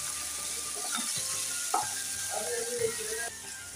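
Spices frying in a pan over a low gas flame, a steady close sizzle with a few soft stirring bumps and nobody talking.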